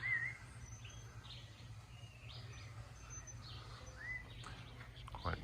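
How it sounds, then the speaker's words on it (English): Several birds chirp and call at a quiet rural spot in Costa Rica in the morning, scattered short tweets near and far over a steady low hum of insects or distant noise. "It's quite nice being out and being woken up by all the bird life and stuff."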